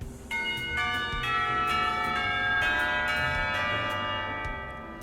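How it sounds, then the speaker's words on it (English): A bell rings out in several successive strikes, each clear metallic tone overlapping and sustaining into a shimmering wash before slowly fading, with no voices. "The ringing of the bell prevents her from demonstrating her point further."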